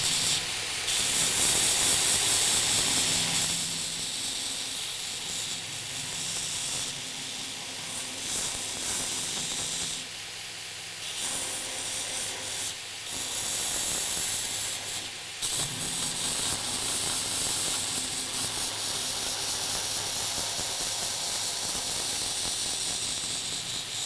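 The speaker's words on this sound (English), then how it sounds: "So I'm just going to grind this first. So I'll go over to the grinder here." A grinder works on a block of carving wax for lost wax casting, giving a steady hissing, whirring grind that runs continuously and fairly loud, with slight shifts in pressure and no voices.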